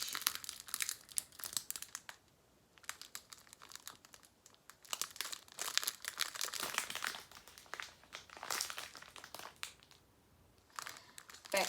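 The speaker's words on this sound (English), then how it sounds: "I'm sorry about the crinkle, y'all." Close, loud crinkling and rustling of plastic packaging around diamond painting kits, in repeated handling bursts with short pauses between them and no voice over the noise.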